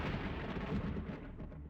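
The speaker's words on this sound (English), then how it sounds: "there was another huge explosion" A huge explosion in the horror video game Corpse Party: Blood Drive, heard as a dense, continuous low rumble that fills the whole moment and fades slightly toward the end, with no voices.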